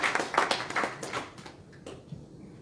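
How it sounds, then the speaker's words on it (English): Audience at a speech by Kennedy Agyapong claps for Akufo-Addo, a short burst of scattered hand claps that thins out and fades within about two seconds. "Clap for Akufo-Addo"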